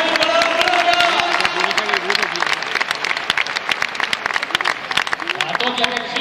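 Sustained applause from a large crowd at an indoor motorcycle trial in Barcelona fills the space with dense, steady clapping, while an announcer talks over it throughout.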